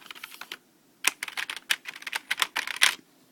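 Rapid typing on the original keyboard of a Macintosh Performa 630CD, a run of close, crisp key clicks after a short quiet opening burst, with no talking.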